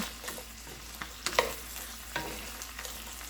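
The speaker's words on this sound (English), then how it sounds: "I'm just gonna mix this around a little bit." Taco meat and onions are stirred around in a frying pan, giving a soft, steady sizzle broken by scattered scraping clicks of the spoon, close and fairly quiet.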